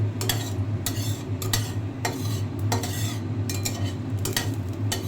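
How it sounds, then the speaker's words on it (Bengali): Panch phoron spices and chilli frying in oil in a pan while a utensil stirs them, giving repeated scraping clinks and metallic taps over a steady low sizzle, close and moderately loud, with no speech. "দেখুন এখন মশলাটা ফাটছে, মশলাটা কিন্তু অলমোস্ট হয়ে গেছে।"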